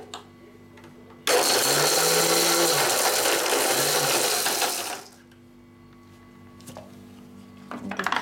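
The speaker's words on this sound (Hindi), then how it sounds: "ये अभी मैं ग्राइंडर में इसको ग्राइंड करूँगी।" A mixer grinder whirs loudly for about four seconds while grinding ingredients for Odia badi chura, then cuts off. A quiet kitchen background remains before and after.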